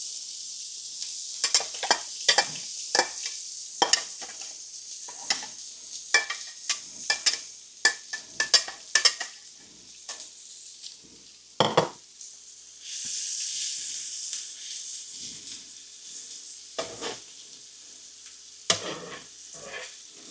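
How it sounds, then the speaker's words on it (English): Onions frying in beef tallow in a pan, a steady sizzle punctuated by frequent sharp scraping and stirring clatters, with a louder burst of hissing partway through; close and fairly quiet, no talk. "Now, we're going to add our onions."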